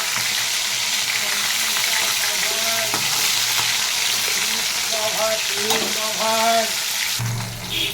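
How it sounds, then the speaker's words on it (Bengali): Fish fry in hot oil in a home kitchen pan, a loud continuous sizzle and crackle throughout, with brief utensil scrapes and a faint voice near the end. "মাছগুলো ভাজা হয়ে গেছে,"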